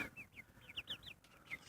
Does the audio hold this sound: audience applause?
no